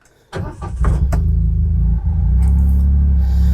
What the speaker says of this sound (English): So we'll go ahead and turn the machine on here.